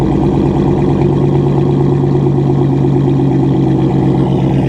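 A 2007 Bentley Continental GT engine rumbles steadily through its exhaust, a deep, even idle that stays loud and close throughout.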